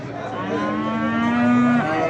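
A male calf at a livestock market in Beylagan gives one long, loud, close moo that swells and holds steady before tapering, with market din behind it.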